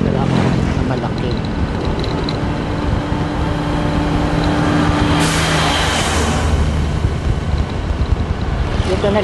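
Heavy traffic of cars and trucks on a winding mountain road, a continuous loud rumble of passing engines mixed with strong wind buffeting the microphone, with occasional faint talk.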